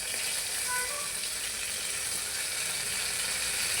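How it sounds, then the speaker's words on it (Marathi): Crushed garlic sizzles in hot oil as a tempering for dal, making a soft, even, continuous frying hiss heard close but quietly, with no talk. "आता मी यामध्ये लसूण ॲड करते हा ठेचलेला लसूण आहे"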